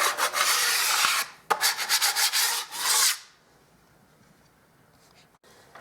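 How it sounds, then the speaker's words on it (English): Fine 180–240 grit sandpaper on a block rubbed over filled patches on a painted wall, a run of close, loud, rhythmic scratchy strokes for about three seconds before stopping, then near silence. "Got some fine sandpaper on a block."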